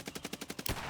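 Rapid pistol gunfire in a video game, about eight evenly spaced shots in under a second, ending in a louder blast, fairly quiet overall.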